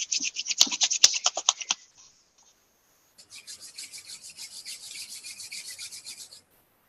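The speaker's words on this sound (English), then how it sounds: "rub your palms together, make them nice and warm." Palms rub briskly together up close, a rhythmic series of dry swishing strokes, then after a short pause a second, softer and steadier run of rubbing strokes.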